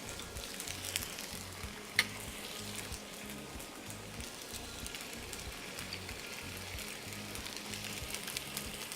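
Tomato sauce, white sauce and ketchup are stirred together in a hot pan, giving a steady soft sizzle with scraping stirs and one sharp clink of a utensil.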